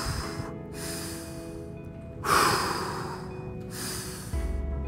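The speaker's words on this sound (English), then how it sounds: "Three deep breaths." Three deep breaths taken during a shoulder stretch on a mat: long airy inhales and exhales, close and steady, with one louder breath in the middle and no talking.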